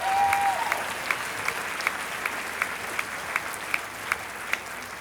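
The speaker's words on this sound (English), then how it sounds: "Let's hear it for Kenny Mock" Applause from a live audience greeting a comedian and college football player at a comedy debate event, steady dense clapping filling the room with a few sharper claps standing out, no voices over it.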